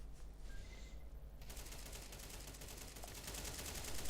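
Rapid automatic gunfire in the video game Counter-Strike 2 rattles in a continuous stream of shots, dense and steady for several seconds.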